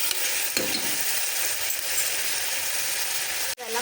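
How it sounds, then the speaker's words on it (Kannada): Chopped vegetables with garlic and green chilli sizzle steadily in hot oil in a pan, with stirring scrapes and a sharp clink of the spoon near the end, close and continuous with no talk. "ಎಲ್ಲ ವೆಜಿಟೇಬಲ್ಸ್ನ ಹಾಕಿ ಚೆನ್ನಾಗಿ ಫ್ರೈ ಮಾಡ್ಕೊಳ್ಳಿ."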